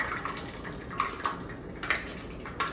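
Dissolved caramel pours into a flan pan for chocoflan, making a faint, steady liquid trickle with a few soft clinks and taps against the pan.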